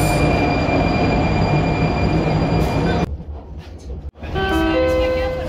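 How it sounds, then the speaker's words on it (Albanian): A metro or tram ride in Prague, Czech Republic: a loud steady rolling rumble of the carriage that cuts off abruptly, then a quieter stretch followed by a rising whining tone as the vehicle moves off again. "Tani po marim metron më duket ose tramvaj, nuk e di."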